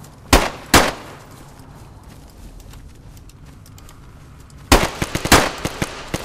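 DayZ gunfire: two sharp loud shots near the start, a quiet stretch of low background, then another cluster of several cracking shots close together near the end.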